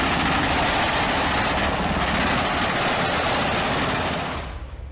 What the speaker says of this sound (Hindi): इसे ऐसे ऐसे हथियार से लैस किया गया है जिनके दम पर यह युद्ध का नक्शा बदल सकता है।